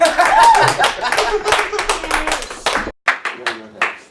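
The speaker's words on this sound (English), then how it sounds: "Give a round of applause for Kyle Allen" Scattered clapping from a small comedy club audience mixes with cheering, a whoop and talking, the claps uneven and sparse rather than a full ovation.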